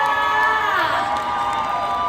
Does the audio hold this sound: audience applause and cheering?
yes